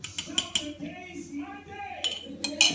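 A metal spoon clinks against a jar of raw honey, with several sharp, bright taps spaced irregularly, close up, amid quiet speech-like murmuring in the background.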